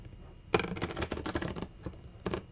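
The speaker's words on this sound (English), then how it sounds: "I'm gonna try for you folks to try and riffle shuffle" A tarot deck of stiff cardstock is riffle shuffled, giving a quick close flutter of cards for about a second, a short pause, then a brief second flutter as the cards settle.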